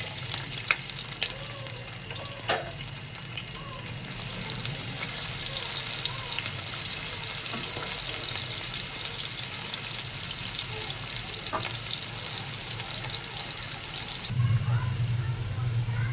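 Sliced onions hit hot oil in a pot and fry with a loud, steady sizzle that swells and holds, with occasional stirring scrapes, for a mutton pulao.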